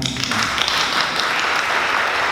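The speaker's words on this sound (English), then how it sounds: "I'll give them my own hand clap this morning" A short burst of applause at a Trenton city government meeting, dense steady clapping from a room of people, fairly loud and close, lasting a couple of seconds.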